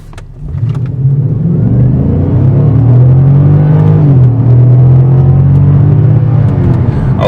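A 2011 Infiniti M56x engine in sport mode revs up and accelerates hard, a loud steady roar with rising pitch that holds strong throughout.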